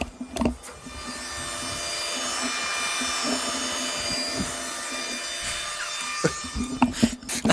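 Computer graphics card whirring with a sawing-like rasp, a steady buzzing drone with faint tonal whine lasting several seconds, close and moderately loud, bracketed by brief knocks and handling noises.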